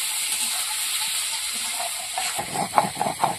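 Slit green chillies and Sona Bogo fish are sautéed together in a pan with turmeric, giving a steady broad frying sizzle that turns busier and louder in its last second, with scraping stir strokes and no talk.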